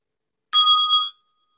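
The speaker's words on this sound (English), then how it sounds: "Just since we're closing, I'll give a bell." A small bell rung once to close a Zen class before vows are chanted gives a single bright, clear strike that rings for about half a second in otherwise silent surroundings.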